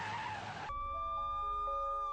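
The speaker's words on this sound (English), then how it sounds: "a second car barrels down and plows into me" A car skids with a harsh tire screech during a staged crash in a road insurance scam, then a steady ringing tone follows as the noise cuts off abruptly.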